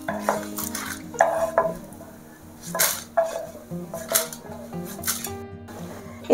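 Roasted ingredients for pudina podi (mint powder) are scooped from a pan onto a plate, giving a run of scraping and clattering metal-utensil knocks at close range, with no talk.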